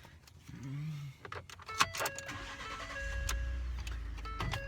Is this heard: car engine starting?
yes